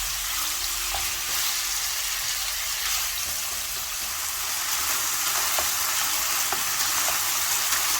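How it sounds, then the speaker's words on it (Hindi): Chicken pieces frying lightly in a pan, a steady broadband sizzle that holds evenly throughout, with a few faint clinks of stirring. "तो चिकन को भी इसके अंदर डाल के हल्का सा फ्राई कर लेंगे,"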